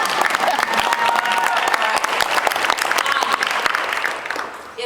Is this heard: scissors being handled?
no